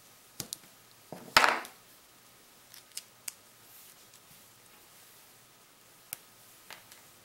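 A homemade vinyl tubing cutter slices along split tubing, giving a few sharp close clicks and one louder rasping cut near the start, then sparse faint ticks in a quiet room.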